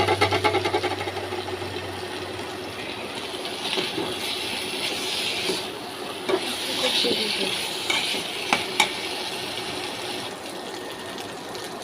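Taro pieces with ground coriander and whole garam masala sauté in a pan, a continuous close sizzle with spatula scrapes and occasional sharp clinks against the metal, and a low hum underneath during the first two seconds.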